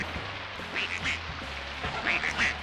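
Ducks quacking in the Toy Story 2 video game, two short nasal quack bursts a little over a second apart, heard over a steady low game background.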